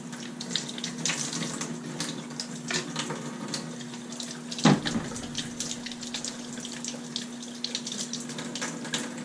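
Tap water runs steadily into a sink as the primer plunger from a Fluval 406 aquarium canister filter is rinsed, with a brief splash partway through.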